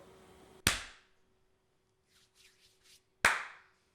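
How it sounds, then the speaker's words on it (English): Two sharp, loud hand claps for syncing audio, spaced about two and a half seconds apart in a quiet room, with faint rustling between them. "No, your clap was better though."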